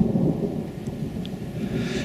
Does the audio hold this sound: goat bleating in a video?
no